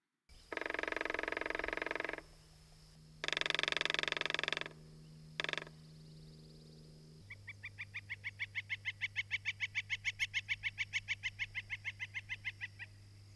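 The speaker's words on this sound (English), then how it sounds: "This is a northern flicker." A northern flicker woodpecker gives a few loud, buzzy calls, then drums a long, rapid, evenly spaced roll of about two dozen knocks that fades slightly at the end, heard alone.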